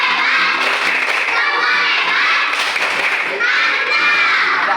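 A class of children does a rhythmic clapping cheer, loud and close, with claps and voices in a steady pattern, the crowd noise continuous throughout.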